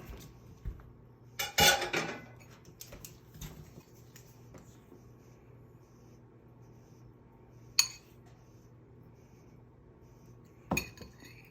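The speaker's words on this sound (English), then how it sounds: "We're gonna put it in the skillet, and then she'll apply the rub to it." A whole chicken being set into a skillet for rotisserie-style roasting gives a few sharp clanks and thuds of metal and glass, spaced apart over a quiet kitchen background.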